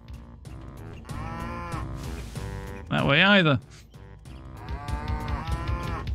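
A cartoonish cow moos once in the Banjo-Kazooie video game, a loud wavering call rising out of game music, with a person talking before and after it.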